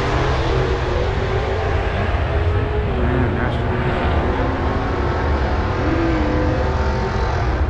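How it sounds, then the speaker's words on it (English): A car engine popping and revving on two-step launch control at a Holley LS Fest drag event, loud and continuous in a noisy outdoor crowd setting with other engine rumble around it. "Somebody two-step going crazy."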